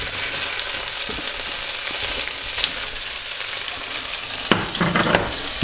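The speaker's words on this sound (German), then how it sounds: "Bratkartoffeln braten lassen" Potatoes pan-frying into Danish-style Bratkartoffeln give a steady, close hissing sizzle throughout, with a few louder crackles and scrapes near the end; no voices.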